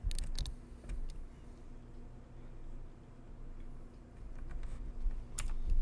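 An orange cat treads across a computer keyboard, giving soft irregular key clicks and taps, with a few sharper clatters at the start and end over a quiet room hum.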